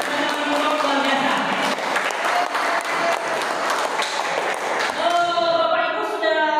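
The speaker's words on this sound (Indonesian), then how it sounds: "silakan tepuk tangan boleh dulu" Audience at a teacher training session for the Merdeka curriculum applauds steadily for several seconds, a dense wash of clapping with a voice speaking over it toward the end.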